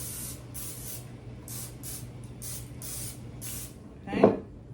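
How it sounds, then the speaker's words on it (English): Cooking spray oil hisses onto loaf pans in a series of about eight short, bright bursts, evenly paced and close, followed by a louder clunk near the end. "you're gonna spray these down with some spray oil"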